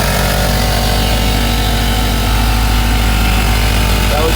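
Air compressor running off a vehicle's power inverter, a steady loud motor drone with a fine rapid pulsing, continuous and close throughout.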